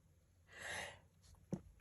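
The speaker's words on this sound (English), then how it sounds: "I turned the camera on and immediately have to sneeze." A single close sneeze: a breathy intake swells and fades, then a short sharp burst of the sneeze itself, in an otherwise quiet room.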